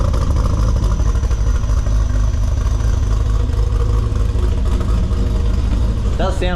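A Nissan RB engine in an R31 Skyline, running with no exhaust fitted, drones loud and raw throughout with a heavy low rumble and clatter; a voice speaks briefly near the end.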